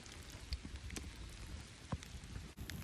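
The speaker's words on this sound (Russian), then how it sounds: "Дождь усилился." Steady rain pattering on a tent at a wet forest campsite, a dense continuous hiss with a few louder drops and thumps close by, no voices.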